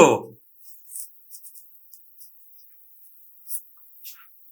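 A pen writes a Bengali sentence by hand on paper: short, faint, scratchy strokes spaced irregularly across otherwise quiet moments, after a brief voice at the very start.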